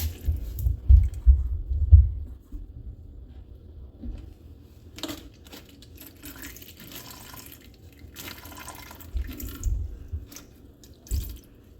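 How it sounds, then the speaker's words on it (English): Rusty coolant draining from a John Deere 445 into a container, heard as low, uneven gurgling and splashing pulses near the start and end, with quieter trickling and faint clatter between. "Alright, so I got that draining into this container, and it looks pretty rusty"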